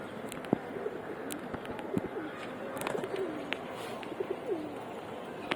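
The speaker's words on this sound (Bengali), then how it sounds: "কবুতরগুলো খুব তৃপ্তি সহকারে গোসল করতেছে" Sky pigeons in a loft, bathing in sunlight, coo in soft repeated rolling calls, with scattered splashing clicks and flutters of water around them, close and steady at low level.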